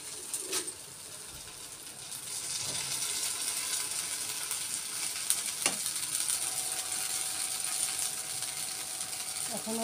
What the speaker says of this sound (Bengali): এখন আমি আস্তে আস্তে করে কটা পিঠে ভেজে নিচ্ছি। আটার পিঠে